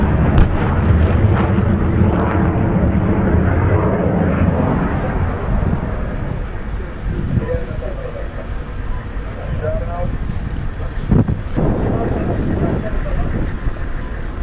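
A HIMARS multiple launch rocket system fires during a Jordanian army exercise, a loud roaring rocket blast and sustained rushing rumble, with a few sharp bursts later and people talking over it.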